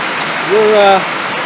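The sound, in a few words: heavy rain storm pouring on a workshop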